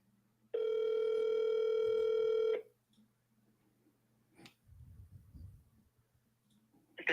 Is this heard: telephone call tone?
yes